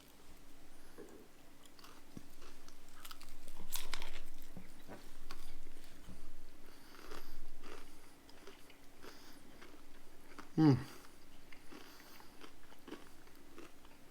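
Someone bites into and chews a crunchy Nashville hot chicken sandwich with a battered fried coating, giving soft close-up crunches and mouth sounds, with one sharper crunch near the end.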